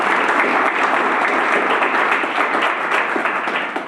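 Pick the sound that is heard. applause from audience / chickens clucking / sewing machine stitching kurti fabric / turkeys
applause from audience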